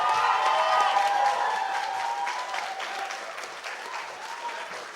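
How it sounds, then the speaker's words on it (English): An audience at a candidates' quiz gives a round of applause for two presidential candidates. The clapping is dense and sustained, strongest at first and then tapering slightly. "If you'd like to give a round of applause to Mitch and Tom."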